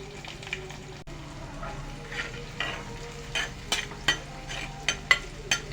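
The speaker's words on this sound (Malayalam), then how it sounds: "നമ്മൾ അരിഞ്ഞു വെച്ചിരിക്കുന്ന ഇഞ്ചി വെളുത്തുള്ളി സവോള അതുപോലെ തന്നെ പച്ചമുളക് കറിവേപ്പില ഇത് ഇത്രയും കൂടി ചേർത്ത് നന്നായിട്ടൊന്ന് വഴറ്റിയെടുക്കാം" Ginger, garlic, onion, green chilli and curry leaves sautéing in a pan for a fish head curry, with a steady soft sizzle and a spoon scraping and stirring in sharp clicks that grow more frequent toward the end.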